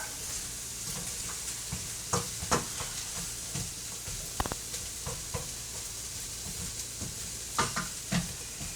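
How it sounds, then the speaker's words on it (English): A pot of French-style lentil soup with slow-cooked onions and carrots is stirred, with a steady sizzle underneath and scattered scraping, clinking strokes of the spoon at an irregular rhythm. "watch me stir my pot"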